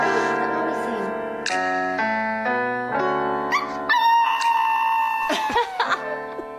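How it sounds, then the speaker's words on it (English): A dog yips and howls in wavering, sustained tones over a loud karaoke backing track, closely recorded. "you want to hear a dog singing karaoke, Pony?"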